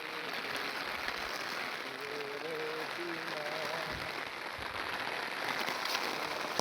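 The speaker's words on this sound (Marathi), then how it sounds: "पावसाक सुरुवात झाली आहे फायनली." Light rain at the start of the rainy season in Amboli's hills, a soft steady patter of drops on surfaces, with faint voices and brief tones in the background.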